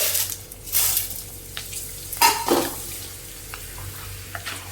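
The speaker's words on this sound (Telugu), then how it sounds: "అన్నిటినీ ఇలాగే ఫ్రై చేసుకోవాలి" Homemade corn chips fry in hot oil with a steady, close sizzling hiss that swells in a couple of louder bubbling bursts, with no voices over it.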